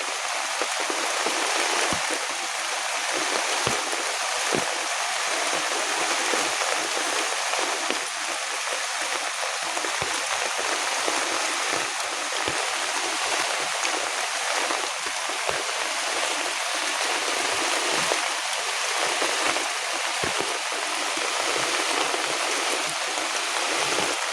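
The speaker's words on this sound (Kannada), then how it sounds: "ಅಲ್ಲಿ ಕೆಳಗೆ ಹೊಳೆ" Steady rushing water flows continuously, a broad even wash of sound like a stream or river, with no voices.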